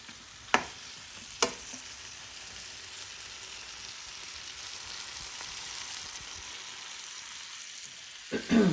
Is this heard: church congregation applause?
no